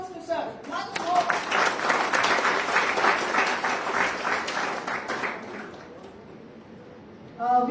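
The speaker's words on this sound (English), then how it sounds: "Give a round of applause to sir." Audience at a university deeptech talk in Kolkata applauding a speaker, a sustained crowd of clapping hands lasting several seconds that slowly fades, with a voice briefly heard at the start and end.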